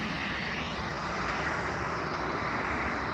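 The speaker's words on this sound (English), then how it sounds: "The Cessna Citation has departed." Cessna Citation business jet departing Newcastle International Airport, a steady broad engine roar heard from a distance, holding constant for about three seconds with no talking.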